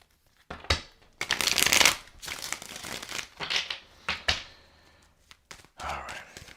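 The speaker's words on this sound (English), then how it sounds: "The last shuffle." Tarot cards being shuffled in close bursts, a long riffling stretch followed by several shorter shuffles with brief pauses between them, loud and near with no talk.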